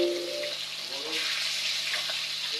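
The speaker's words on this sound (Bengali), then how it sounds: "আমি উল্টাই পাল্টাই খুব সুন্দর করে ভেজে নিচ্ছি।" Koi fish (climbing perch) fries in hot oil in a pan, making a steady, close hiss of bubbling oil that holds evenly throughout.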